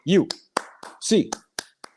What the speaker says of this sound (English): Hands up, Bruins fans. 8 clap time, baby.